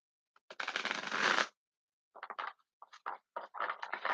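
Oracle cards being shuffled by hand, one long riffle followed by several shorter bursts, quiet and close with silence between.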